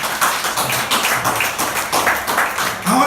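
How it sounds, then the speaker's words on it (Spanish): Church congregation clapping together in steady, rhythmic applause, a dense run of sharp hand claps filling the room for a few seconds. "Denle un aplauso"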